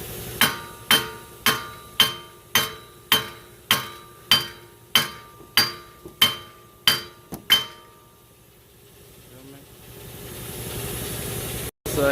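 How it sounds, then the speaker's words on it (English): A steady series of about a dozen loud metallic hammer knocks on a rusted rear wheel hub of a Dodge Journey, evenly spaced, then quiet with a faint background hiss and one sharp final clunk. "you might want to get a hammer and knock right here."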